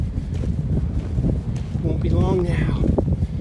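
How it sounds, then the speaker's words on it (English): Wind in Iceland buffets the microphone with a low, rumbling roar while a person speaks briefly over it. "Windy, cold."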